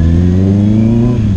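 A car engine revs loudly in road traffic, a close, steady mid-pitched drone that holds throughout without pause.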